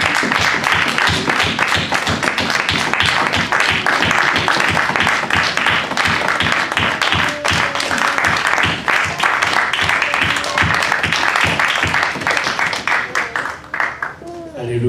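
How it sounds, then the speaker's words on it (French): Loud, sustained applause and clapping from a church congregation fills the whole span, dense and steady before thinning slightly at the end, with some voices mixed in. "A big round of applause to the Lord God."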